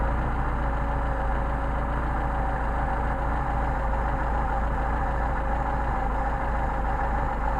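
A Mercedes 190SL engine idles steadily at close range with a continuous low rumble and slight unevenness as its Solex carburetors are adjusted, with no talk over it.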